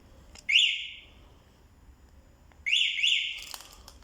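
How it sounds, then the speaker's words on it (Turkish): A Yuki Greta Roof three-wheeled electric scooter's alarm emits two loud, shrill warbling chirps separated by a pause, close and piercing against a quiet background. "Bir de bu modelde alarm da var arkadaşlar. Bu da alarmı."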